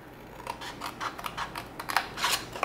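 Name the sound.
scissors cutting paper box flaps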